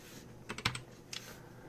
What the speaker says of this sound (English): let me just do a typing test